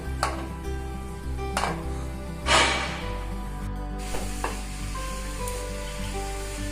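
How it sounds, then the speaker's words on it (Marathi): Grated carrots hit a hot pan for carrot halwa and sizzle steadily, with several sharp stirring scrapes and clinks of a utensil against the pan over a constant low hum. "आपण आता हे किसलेले गाजर टाकून घेऊ"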